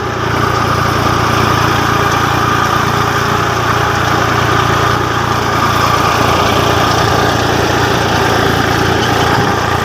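A tractor engine runs steadily in a cotton field, a continuous loud mechanical drone with a throbbing low hum that holds evenly throughout, no voices present.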